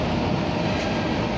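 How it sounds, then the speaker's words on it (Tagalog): An MRT metro train rumbles steadily through a station at night, a loud continuous rail roar with faint wheel clatter, with no voices. "so sasakay na tayo MRT at medyo gabi na rin guys"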